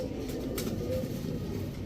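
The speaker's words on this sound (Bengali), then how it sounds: "এটা একটা মাদি কবুতর" Low, soft cooing from a female crested pigeon at a pigeon farm, continuous and close, over a steady murmur of background noise.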